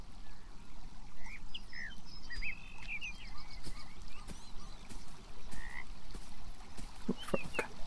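A frog croaks repeatedly in an indie video game over an ambient wash of outdoor noise. The calls come in short, scattered bursts that grow denser near the end.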